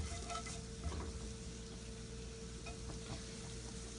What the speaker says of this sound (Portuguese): Eu vou refogar um pouquinho de alho.